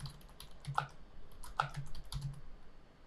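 Quick, light keystrokes on a computer keyboard while writing ReactJS code, in short irregular bursts of clicks heard close and alone.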